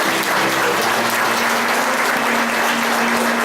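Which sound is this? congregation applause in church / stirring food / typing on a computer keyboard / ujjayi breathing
congregation applause in church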